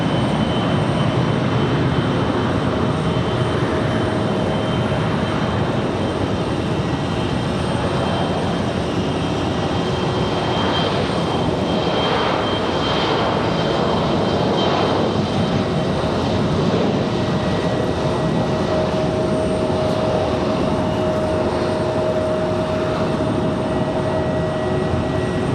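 An airliner takes off at Raleigh-Durham airport, a sustained jet engine roar with faint tonal whine lines running steadily for the whole stretch, loud and unbroken, no voices.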